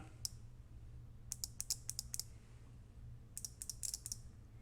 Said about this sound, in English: the reason they click is, like I said, they use the little relay